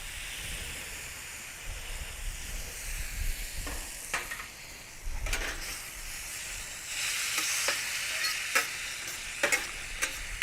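Chicken and onions sizzle in a pan as soy sauce goes in, a continuous close frying hiss broken by scraping stirs and sharp spatters that grow busier toward the end, with no voices.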